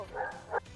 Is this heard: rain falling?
no